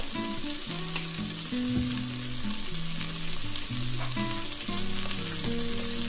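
Chicken breast with achiote and chicken stock fries in a pan, a steady close sizzle with scraping and clinking as it is stirred, no voices.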